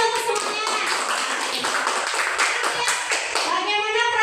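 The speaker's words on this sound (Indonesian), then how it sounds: "Kita sudah beri tepuk tangan untuk semuanya." A classroom of students applauding together during a lesson, producing dense, steady clapping that carries through the whole stretch with a few sharper hand claps standing out.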